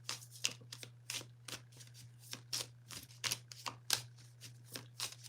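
Cards being drawn and shuffled from a deck in a tarot-style reading, a steady run of quick crisp flicks and riffles close by over a low constant hum, with no talking.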